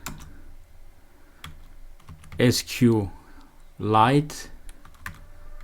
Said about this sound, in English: So I'm going to type class